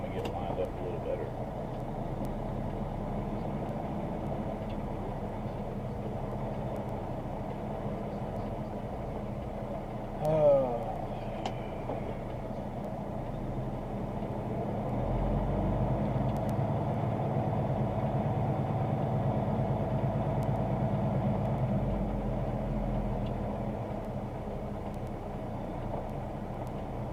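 A truck engine rumbles steadily at low revs while the rig is maneuvered to line up, a continuous idle-like drone with a slight rise in engine load partway through, close and unbroken.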